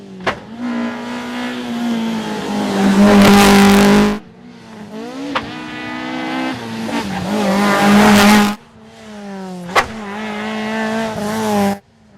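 Rally cars on a tarmac hill climb stage roar past one after another, engines revving hard and climbing in pitch, with tire squeal and abrupt cuts between passes; loud and close, no talk.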